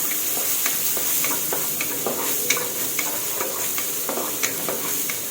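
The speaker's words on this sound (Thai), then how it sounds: "ตามด้วยพริกชี้ฟ้าค่ะผัดทุกอย่างให้หอมค่ะ" Chillies, peppercorns and coriander root are stir-fried for salt-and-chilli shrimp, with a soft sizzle under repeated scrapes and light clicks of a spatula against the pan, up close and without speech.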